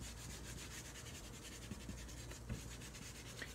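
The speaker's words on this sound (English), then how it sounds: "So as we're sanding that" Sandpaper rubbing across a wood surface being prepared for lacquer, a quiet continuous scratchy friction with faint back-and-forth strokes and a few small knocks, close and alone.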